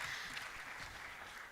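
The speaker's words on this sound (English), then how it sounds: "A round of applause for our panelists." Applause from a conference audience for a panel of speakers at a national cancer summit, a steady, moderately faint wash of clapping that holds evenly throughout.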